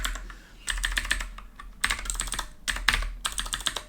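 Bursts of typing on a computer keyboard while entering code, rapid clustered keystrokes separated by short pauses, close and clear with no talking.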